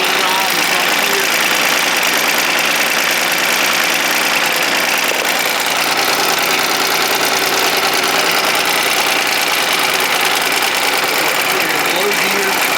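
A John Deere 2305 compact tractor's engine runs steadily at a low, even rumble throughout, close and continuous with no breaks.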